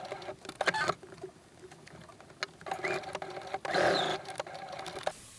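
A sewing machine stitches fabric ribbon strips, a rapid mechanical whirring run in short bursts with a longer stretch near the end, close and moderately loud with no voices.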